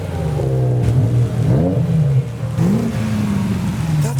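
A Vauxhall Vectra drives past at a BMW car show in the rain, its engine note rising and falling over a steady loud rumble with shifting revs, no talk heard.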